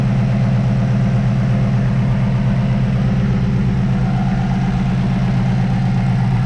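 A Ford GT350 engine idles steadily and smoothly with a deep, even rumble that runs close and loud for the whole stretch, with no talking over it.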